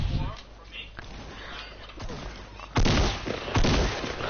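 Shotgun blasts in a jetpack shooter game, two loud heavy bursts in the second half over a busy mix of game noise, with a voice talking throughout.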